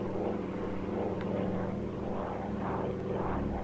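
A propeller-driven warplane engine drones steadily in the video game Air Conflicts Pacific Carriers, a loud, constant buzzing hum with a low throb that runs unbroken for several seconds.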